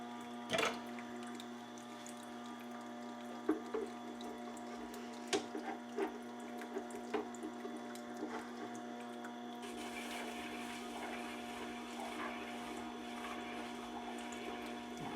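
A Tormek sharpening wheel, freshly dressed with honing compound for use as a strop, spins with a steady motor hum and tonal whine, joined by a few sharp clicks and light contact noises, with no talking.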